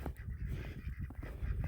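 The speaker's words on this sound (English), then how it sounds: "Quacks away." Ducks herded outdoors alongside goats, honking and quacking in a dense, continuous chorus at close range.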